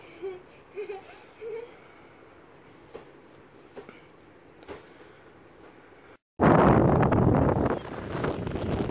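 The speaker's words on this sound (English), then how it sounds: "Sorry, guys, about the wind." Quiet outdoor ambience with faint murmurs, then a sudden loud burst of wind buffeting the microphone that roars steadily to the end.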